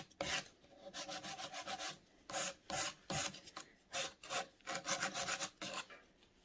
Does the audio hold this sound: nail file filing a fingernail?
yes